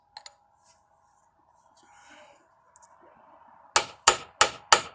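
Four sharp, evenly spaced hammer taps ring out close by as a part is seated on a 1958 AMC Rambler Super during restoration, following a faint whisper and quiet shuffling.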